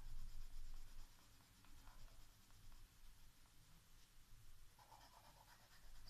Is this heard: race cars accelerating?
no